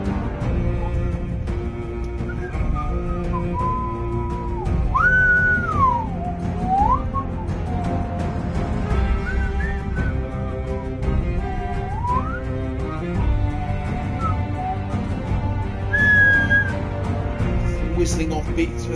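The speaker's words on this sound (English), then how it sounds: "Whistling off beats that YouTube can't recognise." A person whistles a wandering, off-beat melody with sliding pitches over continuous game music during a Game of Thrones episode playthrough, loud and steady throughout.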